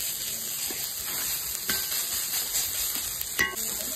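Greens (shak) frying and being stirred in a pan, a soft continuous sizzle with occasional sharp clinks of a utensil against the pan, with a steady hum behind it.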